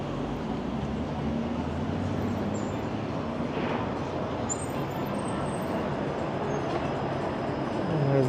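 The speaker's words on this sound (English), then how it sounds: "And there's the 505 Dundas streetcar." The 505 Dundas streetcar rolls along a Toronto street, heard as a steady low rumble of rail wheels mixed with city traffic noise, with a few faint high squeals.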